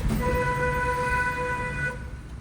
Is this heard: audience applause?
no